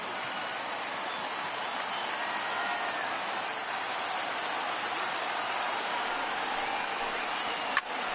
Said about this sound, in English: And now this relatively sparse crowd comes to their feet one final time.